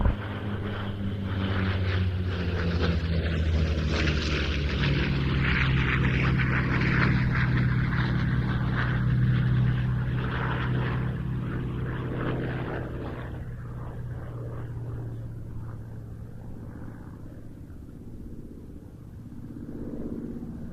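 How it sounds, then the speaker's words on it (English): A Corsair propeller warplane flies in and lands at Duxford airfield, its deep piston-engine drone and propeller rumble loud and sustained, then easing off toward the end of the landing roll, with no speech over it. "There's the Corsair in the colours of an aircraft of 1850 Squadron of the Royal Navy."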